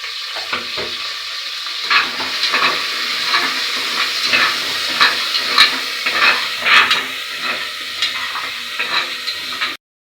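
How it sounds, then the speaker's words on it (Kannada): Mustard seeds splutter in hot oil for tempering, a steady sizzle with rapid, irregular pops and crackles of seeds bursting, close and fairly loud, with no talking. "ಸ್ವಲ್ಪ ಎಣ್ಣೆ ಬಿಸಿಯಾಗಿದೆ ಫ್ರೆಂಡ್ಸ್ ಈಗ ಸಾಸಿವೆ ಸಿಡಿಸ್ಕೊತಾ ಇದ್ದೀನಿ"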